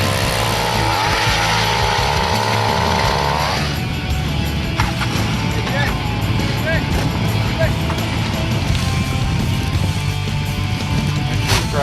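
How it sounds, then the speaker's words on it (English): A power ice auger drills holes through lake ice for tip-ups on East Grand Lake in Maine. The engine drones loudly and steadily throughout, with wind noise and a narrator talking over it. "we next set about drilling enough holes in the ice for 5 tip-ups per"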